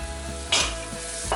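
Onions hit hot olive oil in a pan, a close steady sizzle punctuated by two sharp crackling flare-ups as they are tossed and stirred.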